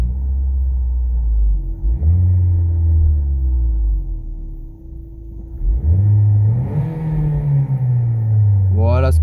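Renault Megane 4 GT 205 hp engine in sport mode, revved twice from idle: a deep rumbling idle rises into strong, close revving surges that fall back, the second climbing higher near the end.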